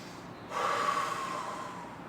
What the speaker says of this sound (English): make sure you're breathing in nice and strongly through the nose and then out through the mouth